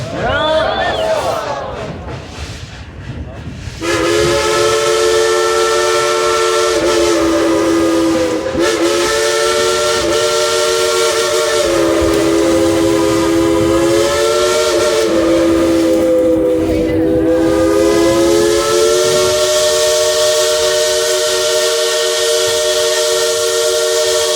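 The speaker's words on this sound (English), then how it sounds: "Would you folks like to hear Engineer Julie play you a tune on that Baldwin locomotive whistle?" A loud Baldwin steam locomotive whistle sounds almost continuously, its pitch sliding up and down in a simple tune with short breaks, over faint background hiss.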